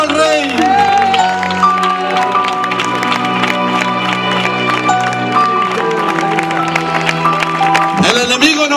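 Applause from an audience at an evangelical open-air campaign in Parque Tombatosals, a loud sustained clapping crowd mixed with music and a voice carrying on through it.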